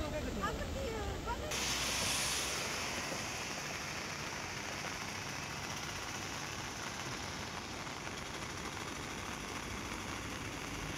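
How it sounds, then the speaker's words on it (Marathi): Steady rain pours down over a flooded bus station in Indapur taluka during unseasonal downpours, a dense continuous hiss with low rumble, loud and unbroken throughout. "गेल्या 4-5 दिवसांपासून इंदापूर तालुक्यात अवकाळी पाऊस कोसळतोय।"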